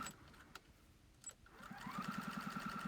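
A sewing machine stitches a neat hem along the bottom of a lined, reversible child's apron, starting after a few quiet clicks and building to a fast, rhythmic whirring run at low volume.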